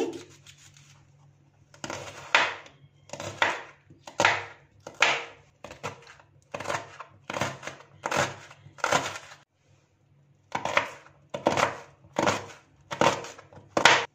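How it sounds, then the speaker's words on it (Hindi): A knife chops onions on a board in steady, crisp strokes, about a dozen close, distinct cuts in a regular rhythm with a short pause partway through, no voices. "प्याज की इस तरह सेंटर में कट लगा लेंगे।"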